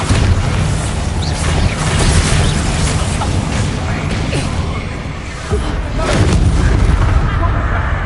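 Explosive spells such as Confringo and Bombarda blast during combat in the video game Hogwarts Legacy, making a dense, continuous roar of loud booms and crackling bursts with no pauses across the whole stretch.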